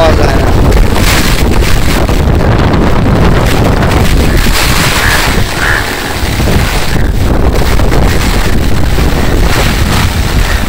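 Strong storm wind in a Bangladeshi village, a loud, continuous roaring gust buffeting the microphone with a brief lull near the middle.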